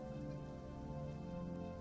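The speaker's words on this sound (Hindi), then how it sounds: "बारिश अब कुछ कम हो गई थी।" Steady rain falls in a continuous, even wash of patter with no breaks, fairly quiet and heard alone without voices.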